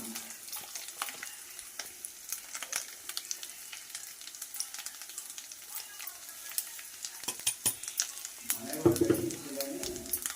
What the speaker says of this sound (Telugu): వెల్లుల్లి పేస్ట్ అయితే బాగా వేగింది